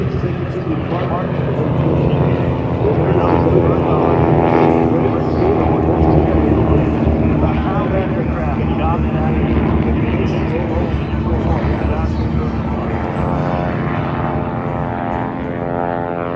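A group of propeller aircraft takes off at the EAA AirVenture Oshkosh airshow, and their loud, droning engines fill the air continuously with a steady roar and some slight swelling.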